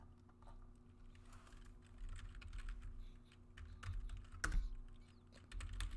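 Soft, quick keystrokes on a computer keyboard during a game-development session, a faint irregular patter of clicks over a low background hum.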